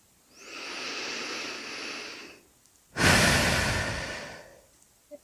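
Two long, vigorous breaths during a guided sophrology relaxation session, a slow airy inhale followed by a stronger forceful exhale, close to the microphone with silence around them.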